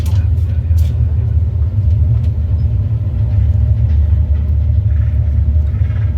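A Boeing 737NG simulator gives off a heavy, continuous low rumble through its landing rollout and braking, loud and steady, with people talking over it.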